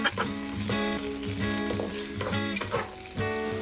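Cubed onion and tomato are stirred in a hot frying pan, a loud continuous sizzle broken by repeated scraping strokes of the spoon against the pan.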